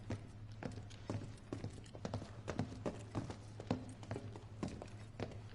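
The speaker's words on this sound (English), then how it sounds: "he should be able to hear us coming with our footsteps being as loud as they are." Heavy footsteps in Final Fantasy VII Remake clatter in a brisk, regular hoof-like rhythm over a steady low drone, loud and continuous with no talking.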